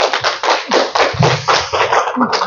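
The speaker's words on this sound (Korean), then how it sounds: "박사님 강의 큰 박수로 시작하도록 하겠습니다" Loud, close group applause opening a lecture on converting a sole proprietorship into a corporation, with dense bursts of hand claps that surge and fade in waves for a couple of seconds.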